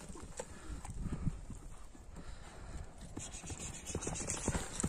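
Hooves of a strong, fast horse offered for sale clip-clop in a quick, uneven stream at a moderate distance, faint against steady outdoor background noise.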